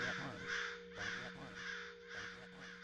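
A group of crows mobbing on a campus caws in repeated harsh, rhythmic bursts, several calls overlapping, moderately distant over a steady low hum.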